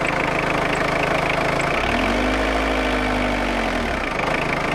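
A car engine idles after a damper pulley replacement, a steady close hum with a low tone that dips and swells briefly in the middle, running alone throughout.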